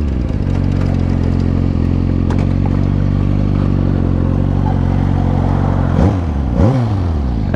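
A stunt motorcycle engine runs loud and close with a rough, clattering idle and a faint cam chain rattle, then revs up twice near the end.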